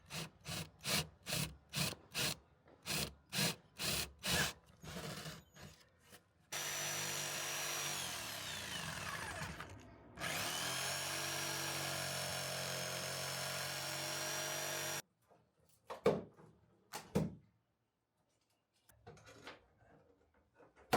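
Rhythmic back-and-forth sawing strokes on wood, then long stretches of a steady whining power cutter, followed by scattered knocks and scraping.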